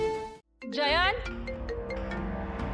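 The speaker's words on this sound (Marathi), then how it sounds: "अरे फोन वाजतोय तुझा." A mobile phone rings with a bright, warbling melodic tone that starts abruptly after a short silence, loud and close, while a voice speaks over it.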